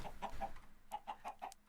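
Chickens in a farm-building video game cluck in two quick bursts of short, separate clucks, soft and fairly close, with no talking.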